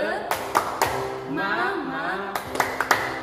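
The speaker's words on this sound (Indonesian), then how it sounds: "Tepuk semangat." Children at a Sunday school worship service clap a rhythmic spirit cheer, sharp unison claps landing in short groups at the start and again at the end, with singing voices carrying between them.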